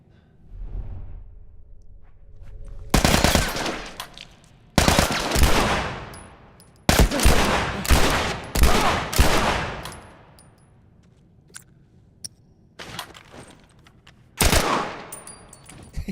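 Gunfire from The Last of Us Part 1 rings out in separate loud bursts, some rapid strings of shots and some single cracks, with near-silent gaps between them.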